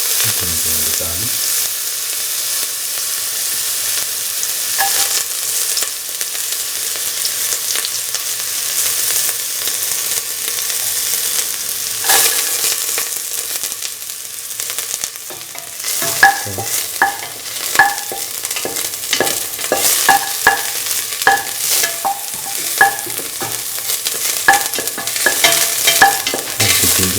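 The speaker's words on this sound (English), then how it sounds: "Put in the garlic." Garlic and ginger fry and get stirred in a pan for a cauliflower and bottle gourd stew, a steady close sizzle broken by repeated scraping and clinking stir strokes that grow busier in the second half, with no talking.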